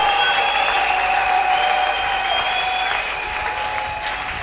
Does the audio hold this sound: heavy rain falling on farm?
no